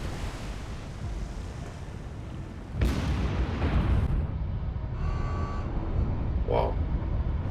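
Naval gunfire in War on the Sea, with ships including Enterprise, Kuma and Akatsuki engaged: a heavy boom breaks through steady background noise and leaves a sustained, rumbling roar of battle, with a few faint higher pops later.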